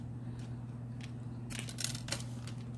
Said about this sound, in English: I'm going to cut it right there and just tuck it in there